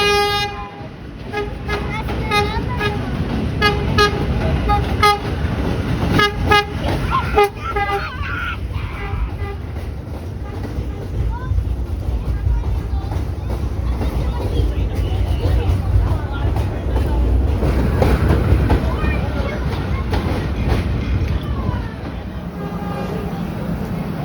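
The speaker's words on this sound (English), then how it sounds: "train of many metals then arrived with some very odd roll signs on both ends" A New York subway train pulls in loud and close, rumbling steadily on the rails with a series of sharp horn toots near the start, while people talk faintly underneath.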